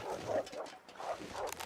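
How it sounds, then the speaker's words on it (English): A wolf in the survival video game The Long Dark whimpers and yelps while fleeing, a few short muffled cries in quick succession at moderate distance. "That wolf is running away."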